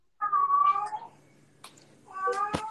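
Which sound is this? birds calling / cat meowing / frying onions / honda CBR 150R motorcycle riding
cat meowing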